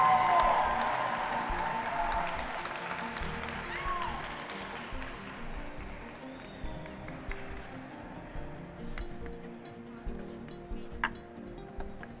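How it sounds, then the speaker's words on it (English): An audience at the 2022 US Barista Championship claps in a broad, sustained wash of applause that slowly fades, with scattered clinks and crowd murmur beneath it. "Big round of applause."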